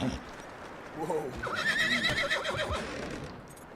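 A horse in the video game Red Dead Redemption 2 whinnies in a long, wavering neigh, with faint hoof clops and a voice speaking quietly around it.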